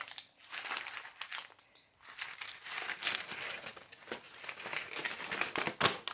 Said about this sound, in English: one thing I'm going to do is crumple the paper